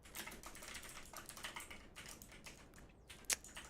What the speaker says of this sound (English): Sorry, I didn't finish typing.